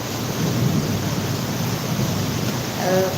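A dense, constant roar of heavy rain fills the scene, with a low rumbling undertone like distant thunder.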